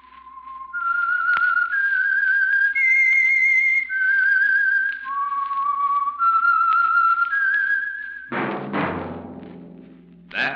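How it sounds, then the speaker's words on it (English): A melodic whistled theme signals the Signal Oil radio mystery program The Whistler, a lone clear whistle gliding through a slow eerie tune of sustained notes, followed by a short burst of orchestral music. "That whistle is your signal for the Signal Oil Program, The Whistler."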